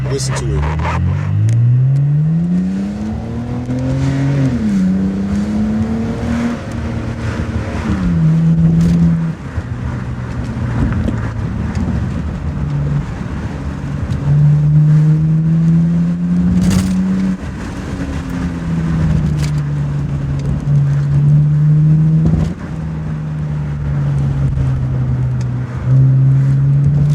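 Close, steady engine drone of a BMW E90 3 Series under way, rising and dropping in pitch as it accelerates and shifts, with occasional bumps and rattles.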